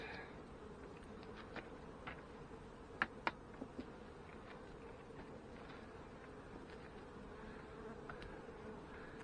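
Honey bees working a nine-frame honey super storing fireweed nectar, a steady low buzzing drone throughout with a few brief clicks and knocks near the hive, no speech.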